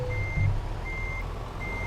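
Truck reversing beeps from Euro Truck Simulator 2, three evenly spaced steady tones over a low idling engine rumble.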